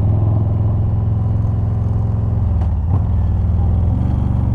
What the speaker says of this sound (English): Big trucks coming through